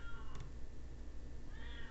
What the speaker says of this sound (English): you can hear that cat meowing through the door